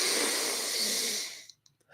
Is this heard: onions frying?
no